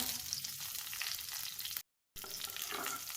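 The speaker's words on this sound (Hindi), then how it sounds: "इसको सौते करेंगे ट्रांसलूसेंट होने तक, ताकि ये नरम हो जाए।" Onions with fresh curry leaves sauté in hot oil, making a steady, soft, dense sizzle with a brief gap of silence partway through.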